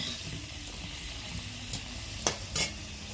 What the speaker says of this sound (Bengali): এইদিকে আলুটা ভেজে নিচ্ছি মাংসের জন্য।